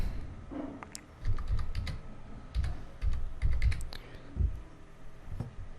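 Typing a note on a computer keyboard in a notes app: irregular bursts of soft key clicks, close and quiet, with brief pauses between runs of keystrokes.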